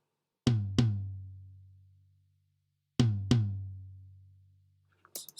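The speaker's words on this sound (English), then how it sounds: "Sounds like a rack tom." Rack tom drum samples struck as two pairs of close double hits, each with a resonant pitched boom that rings out for a couple of seconds, heard alone and close.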